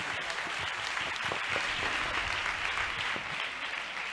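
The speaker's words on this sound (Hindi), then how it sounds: "जो लोग खुश हैं वो जोरदार तालियां खुदा के जलाल के लिए।" Church congregation applauding, a continuous wash of many hands clapping at a steady level, fairly distant and even, with no voices standing out.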